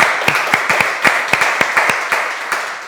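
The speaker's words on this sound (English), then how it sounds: "You can applaud." Sparse, crisp hand claps from a small audience at a 1 Million Cups presentation event in Rockford, a dozen or so separate claps at close range, without talk.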